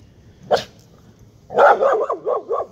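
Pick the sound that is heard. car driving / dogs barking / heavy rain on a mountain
dogs barking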